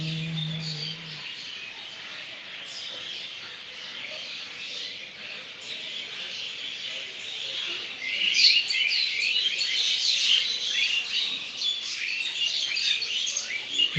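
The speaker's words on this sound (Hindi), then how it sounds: "चिड़िया पक्षियों की आवाज" Many birds chirp and sing in quick, overlapping high calls that grow busier and louder toward the end, with no voices.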